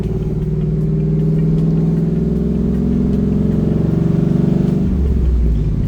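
A Pontiac Trans Am WS6 fitted with a new Hurst shifter drives with a loud, steady, low engine rumble from inside the car. The note holds at a constant pitch, then shifts lower near the end.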